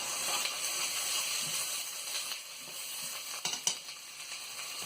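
Chana masala with garlic and grated ginger sizzling steadily in a hot pan while being stirred, a continuous crackling hiss with a few louder scraping bursts near the end.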